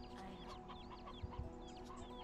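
Chickens cluck and chirp steadily on a farm in the video game Black Desert Online, several birds close by with a low soft bustle beneath, no talking.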